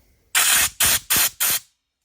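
Four short, loud hissing blasts of spray cleaner and compressed air, evenly spaced in quick succession while cleaning a 2006 Honda Ruckus scooter, with no talking.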